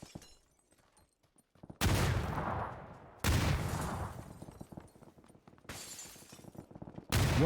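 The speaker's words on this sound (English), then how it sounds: "Here comes a nade." Grenade blast and bursts of gunfire in a PUBG console league esports match: four sharp, loud broadband eruptions spaced a second or two apart, each trailing off into rattling decay, with near-silence before the first.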